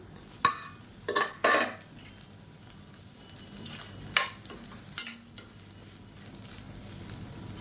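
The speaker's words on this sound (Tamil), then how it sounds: "இப்போ இதில் நம்ம நறுக்கி வச்சுருக்க இந்த மீல் மேக்கரை சேர்த்துக்கலாம். சேர்த்து நல்லா வறுத்து எடுத்துக்கலாம்." Soya chunks frying in hot oil in a kadai, a steady low sizzle punctuated by several sharp clatters of a spoon stirring against the pan, close and clear with no talking.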